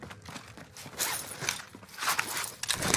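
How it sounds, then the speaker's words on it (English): Faint footsteps in Call of Duty Warzone, a soft scatter of uneven steps and light scuffs that shuffle close by in a quiet game scene with no talking. "I hear footsteps, but I don't know if it's one of you guys or"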